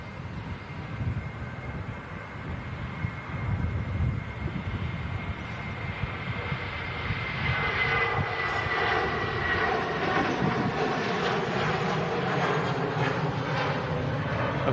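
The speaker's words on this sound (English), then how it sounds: "Lufthansa A321 on the way back to Frankfurt." A Lufthansa Airbus A321 jet heading for Frankfurt roars steadily, its engine noise building and swelling louder toward the end as it departs.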